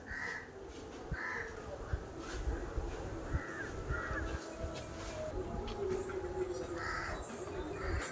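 Birds call at Vedanthangal bird sanctuary. Repeated harsh caws rise at intervals over a steady outdoor background, moderately near, with no voices.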